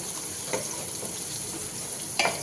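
Cinnamon, biryani flower and curry leaves fry in oil for potato biryani, making a steady close sizzle with a few faint crackles and one sharper clatter near the end.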